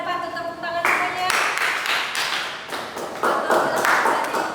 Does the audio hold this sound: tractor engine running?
no